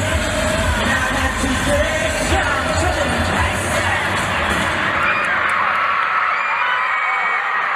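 Dense crowd cheering and screaming at a concert, a steady roar of many voices with shouts and whoops throughout, loud and continuous.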